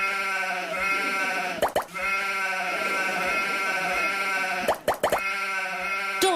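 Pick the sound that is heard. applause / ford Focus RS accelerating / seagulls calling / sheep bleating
sheep bleating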